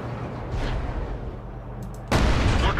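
A tank cannon fires in the video game World of Tanks, one sharp, loud blast breaking in after a steady low engine rumble.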